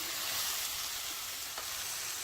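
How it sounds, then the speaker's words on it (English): Chicken and rice frying in ghee for chicken akhni, giving a steady, close, bright sizzle with a faint stirring texture throughout and no voices. "we just want to fry it a little bit. And mix it around in the ghee."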